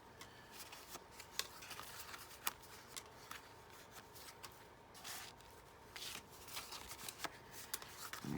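Cards are pulled out of a holder with quiet papery rustling and shuffling, broken by a few soft, sharp clicks and flicks. No one speaks.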